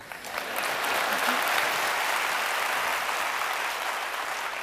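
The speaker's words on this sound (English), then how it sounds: "you can clap if you want" An audience at a motivational talk breaks into sustained, even applause, dense clapping that swells quickly and holds steady at moderate loudness.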